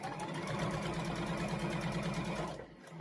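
Domestic sewing machine running steadily while back stitching the ends of a seam on a jacket, a loud close mechanical whir with rapid needle rhythm that continues almost without pause, easing off near the end.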